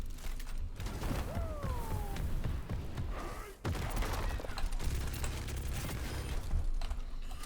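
Mauga in Overwatch 2 fires both guns at once, a dense rapid stream of gunfire with mechanical clatter and ratcheting, sustained and fairly loud with a brief gap midway.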